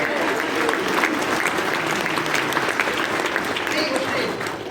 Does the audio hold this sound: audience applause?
yes